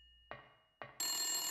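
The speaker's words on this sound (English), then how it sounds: "Just a phone." A telephone rings in the video game Silent Hill. Two short clicking knocks come first, then a loud, harsh electronic bell ring bursts in and holds steady.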